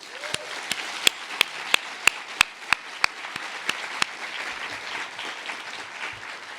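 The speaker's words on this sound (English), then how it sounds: "Would you please help me thank them with a round of applause?" Applause at a speaking event in a hall, with a few loud, evenly spaced individual claps standing out over a softer bed of clapping from the crowd.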